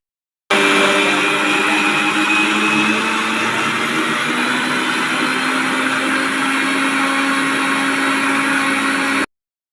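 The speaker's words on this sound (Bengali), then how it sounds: "আমি এতে যে এক বাটি জল নিয়েছিলাম সেটাই অল্প অল্প করে দিয়ে বেটে নিচ্ছি চালটাকে" A mixer grinder grinds soaked boiled rice with water, a loud, steady, close whirring drone that runs without a break for about nine seconds and then stops abruptly, with no talking.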